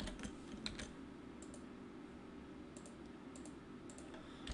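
Ruby code is typed on a computer keyboard in quiet, sparse bursts of light clicking keystrokes, heard close but faint over a soft steady background hum.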